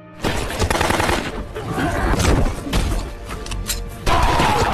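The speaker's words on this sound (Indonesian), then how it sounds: "Mason langsung menghujankan tembakan ke arah Brick dan anak buahnya." Rapid bursts of loud gunfire from a film action scene, with crashes and thuds, chaotic and close, with a brief pause before another burst.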